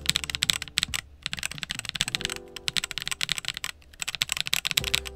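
Redragon K649 Elf gasket-mount prebuilt mechanical keyboard being typed on, a dense, close run of rapid keystrokes with soft, muted clacks and short pauses, loud and alone.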